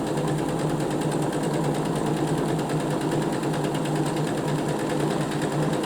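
A sewing machine stitching a cushion cover runs at a steady fast rhythm, its needle mechanism chattering evenly and close up for several seconds, with no voices.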